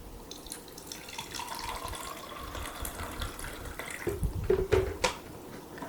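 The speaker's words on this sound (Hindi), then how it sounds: "ये देखिए ये पानी डाल रहे हैं" Water poured from a container, a soft steady trickle that grows into louder splashing gushes near the end, heard close with no talk.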